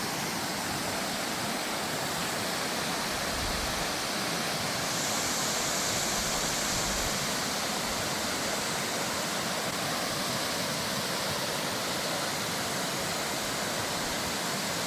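Thoothur waterfall pours with a constant, full roar of rushing water, a steady broadband wash close by that stays loud and unbroken, with no voices over it.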